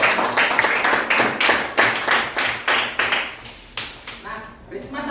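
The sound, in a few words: class clapping hands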